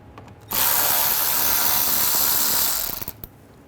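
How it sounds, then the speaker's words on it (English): A ratchet fitted with an 8mm socket backs out two bolts on a 2009-2010 BMW 535i xDrive with a 3.0L inline-six, giving a loud, close whirring burst of about two and a half seconds that sputters to a stop. "we'll take these two bolts out"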